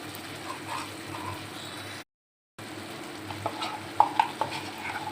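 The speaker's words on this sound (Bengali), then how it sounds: "কম আঁচে আমি চিকেনটাকে কুক করে নেব।" Chicken with tomato, ground roasted cumin and coriander stirred and frying in a pan, a soft steady sizzle with a few brief scrapes and clinks near the end, no voices.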